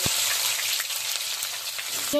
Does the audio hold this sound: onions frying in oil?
yes